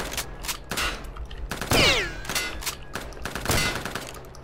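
A shotgun fires in the video game Return to Castle Wolfenstein: loud, close blasts repeating every half second or so in an irregular volley, with reverberant tails and a brief whooshing sweep between shots.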